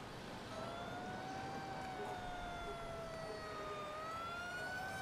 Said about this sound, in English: We have a fire going on, so of course we need to call a fire engine.